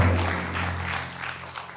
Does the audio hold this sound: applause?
yes